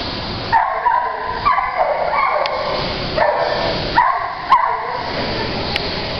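Samson, a 1.5-year-old, 68-pound high-energy dog, barks and yips in a series of sharp, fairly loud calls at a roughly regular pace, close by.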